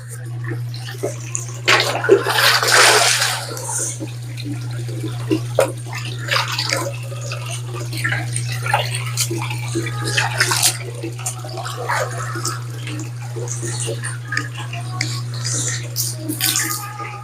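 Seawater poured and splashing out at a seafood stall selling live octopus, a running, sloshing wash with intermittent splashes over a steady electrical hum, while people talk.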